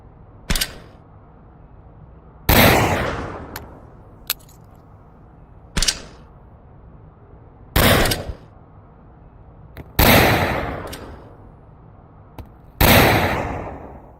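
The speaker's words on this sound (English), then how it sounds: "you're usually not going to get more than halfway to the target before the flashbang explodes" Flashbang grenades in the VR shooter game Onward burst one after another, several sharp loud bangs with ringing decay spaced a few seconds apart, alongside fainter clicks, over near silence.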